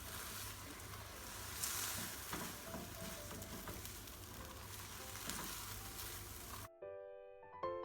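Egg stir-fry simmers and sizzles steadily in a pan as the water cooks off, a continuous close frying hiss with occasional stirring clinks, cut off near the end by a short chime-like tone.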